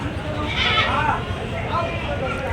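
Several goats bleating close by at a busy livestock market in Jiyaguda, Hyderabad, amid a crowded, noisy background with people talking, the calls overlapping and wavering.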